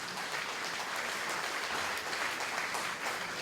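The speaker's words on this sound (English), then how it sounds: "Please give each and every one of them a resounding round of applause." A crowd applauds past leaders with a steady, even roar of many hands clapping at once, continuous and moderately distant with no pauses.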